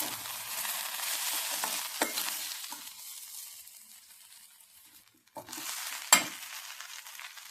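Tomato sauce mixture stirred in a pan with a spoon scraping and swishing, sizzling faintly underneath. The stirring is steady for a few seconds, then quieter, with two sharp scrapes near the end.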